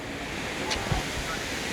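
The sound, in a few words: wind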